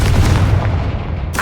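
A Confringo blasting spell goes off in Hogwarts Legacy, a loud, booming explosion that rumbles steadily for about a second and a half, then ends in a brief sharp burst.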